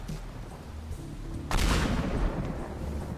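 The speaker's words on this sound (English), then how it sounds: "Alright, pipe bomb." A pipe bomb detonates in the voxel demolition game Teardown, a sudden loud broadband blast about halfway through that gives way to a sustained roaring rumble of debris, with a quieter game ambience before it.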